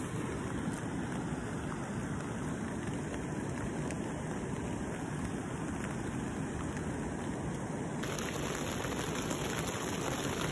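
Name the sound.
rain falling outside a tent while camping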